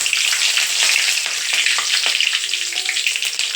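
Mustard seeds and curry leaves crackle and spit loudly in hot oil for a potato kuruma, a dense close sizzle with sharp popping bursts throughout.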